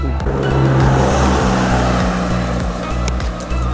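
Car passing close by on a country road, a loud engine roar sweeping past with revving, heard alone without talk.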